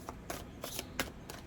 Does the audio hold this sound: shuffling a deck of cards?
yes